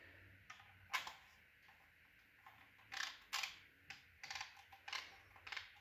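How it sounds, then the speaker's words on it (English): The spring-loaded ball detent on a Remington 870 shotgun's magazine cap clicks as the cap is tightened, giving a series of faint, crisp ticks at irregular spacing that grow closer together toward the end. "What that is that's pretty much a ball bearing on a spring."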